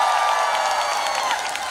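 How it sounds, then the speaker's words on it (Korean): A festival crowd applauding at an outdoor concert during the ginseng festival in Punggi, a dense wash of clapping from a large audience heard at some distance, steady and brief, with no talk over it. "역시 박수 치는 게 다른 지역이랑 다른 것 같아"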